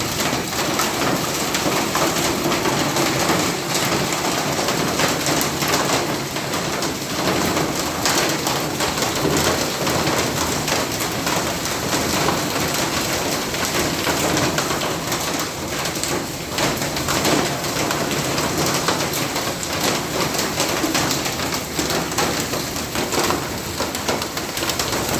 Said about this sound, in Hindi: ये कोई चौथी मरतबा शुरू हो गए हैं ओले गिरने।